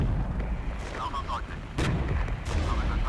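Artillery illumination fire in the war game Regiments, loud booming blasts and rumbling detonations rolling over a heavy low background, with a voice speaking underneath.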